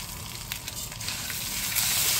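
Rice and browned vermicelli frying in oil while being stirred, a steady close sizzle with scraping stir sounds, no voices.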